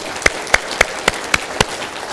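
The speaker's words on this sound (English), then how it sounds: "let's give the mayor a round of applause" At a city's State of the City event, six sharp, evenly spaced claps ring out close and clear over a quiet room hum, more like a single person clapping than a full crowd.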